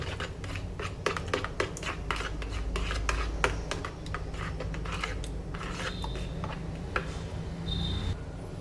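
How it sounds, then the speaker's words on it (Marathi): Yogurt with sugar and salt whisked in a bowl for tadka dahi, a quick run of close, sharp metallic clicks and scrapes of a utensil against the bowl, steady and busy throughout. "साखर पण घालायची आहे छान मिक्स करून घ्यायचं आहे फेटून घ्यायचं"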